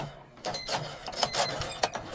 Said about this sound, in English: The cashier operates the cash register quickly.